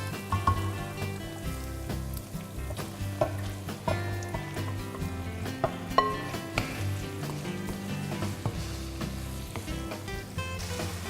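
Firm-fleshed fish fillets cooking in a spiced rempah paste in a pan, giving a steady close sizzle and bubbling with faint stirring clicks, while background music plays throughout.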